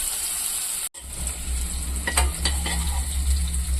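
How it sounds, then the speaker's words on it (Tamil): Paneer cubes frying in a pan while being prepared for fried rice, a steady loud sizzle with stirring scrapes, briefly cut off near the start before resuming continuously. "கொஞ்சம் இதாகட்டும், ஃப்ரை ஆகட்டும்."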